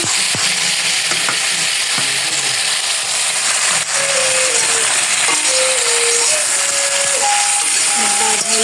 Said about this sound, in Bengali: এখন এই যে চাটনি বসিয়েছি